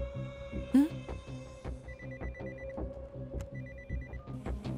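A telephone rings indoors in a television drama scene, a steady electronic tone with rapid rhythmic pulsing repeated several times at moderate volume, with a short higher chirp early on.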